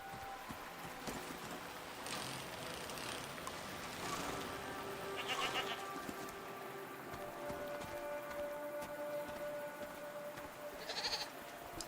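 Goats in a video game, A Season: Letter to the Future, bleat a few times over a constant hiss of background noise, with the calls fairly faint and spaced several seconds apart.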